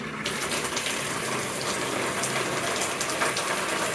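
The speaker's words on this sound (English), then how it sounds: "I'm just gonna go ahead and turn on the water for a minute." Water gushes through a newly installed showerhead after a brief mechanical click as it is turned on, then runs as a steady, close hissing spray.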